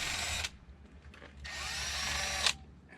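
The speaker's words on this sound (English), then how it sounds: "I use the unibit to get the little shards off the backside." A power drill spins a unibit step bit to deburr the back side of a freshly drilled hole, whining in two separate bursts of about a second each with a short quiet gap between them.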